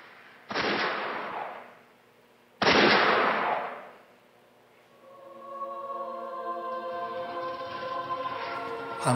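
Gunfire from a film excerpt about the Korean War: two sharp, loud shots or bursts about two seconds apart, each with a long decaying echo, followed by a swelling sustained musical drone.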